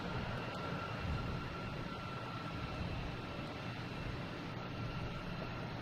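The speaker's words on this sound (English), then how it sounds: "here is JetBlue coming in from Savannah in A220" A JetBlue Airbus A220 airliner coming in to land at Boston Logan from Savannah makes a steady broadband engine roar, loud and continuous throughout with no break.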